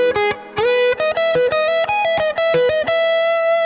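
An electric guitar with effects plays a quick run of single chord-tone notes, rapid and plucked, before ending on a sustained ringing note.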